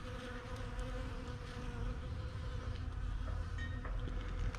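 A honeybee swarm buzzing under a house, a dense steady hum of many bees close by, continuous and alone.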